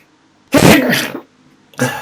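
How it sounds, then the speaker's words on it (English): Two sharp, close bursts of breathy noise, like sneezes, the first longer and louder, the second cut short. "Oh, please don't start this sneezing fit."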